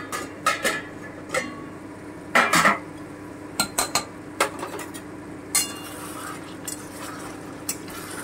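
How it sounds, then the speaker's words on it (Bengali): A lid comes off a pot of mutton rezala amid a series of sharp metallic clanks and clatters of lid and utensils against cookware, spaced irregularly over a quiet kitchen background. "আমি আবারও একটু ঢাকাটা তুলে দেখে নিচ্ছি।"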